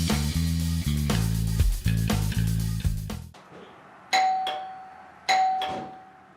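A Ring digital chime plays its doorbell tone: a melodic multi-note chime over the first three seconds, then two bright, ringing ding strikes a second apart, each decaying clearly, close and loud with no talk.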